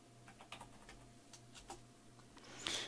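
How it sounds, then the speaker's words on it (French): Light clicks of a computer keyboard as a search term is typed into a database search field, a quiet, irregular run of taps with a slightly busier burst at the end, no voice. "on peut simplement donc venir écrire donc Karen"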